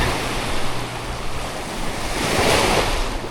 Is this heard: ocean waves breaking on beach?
yes